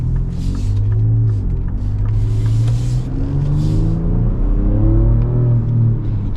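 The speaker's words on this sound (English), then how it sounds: "you get a little bit of blow-off noise. Again, it kind of sounds like a fart can a little bit because it's a turbo V6" Ford Ranger Raptor with a turbo V6 under steady load, a loud close engine rumble and hum with rising and falling revs and faint, brief turbo blow-off hisses on top.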